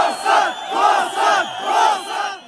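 A large crowd of protesters in a Kazakh town shouts in rolling, swelling waves of massed voices, loud and close, during a clash with troops in January unrest.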